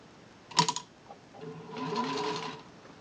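A Singer two-tone green sewing machine set to its longest stitch: a sharp mechanical clatter, then a softer, steady run of stitching lasting about a second, close by with no talking.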